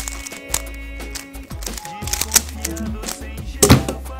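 A Rubik's cube being turned fast during speed solving, rapid plastic clicks and clacks in uneven bursts, close, with a voice talking over it.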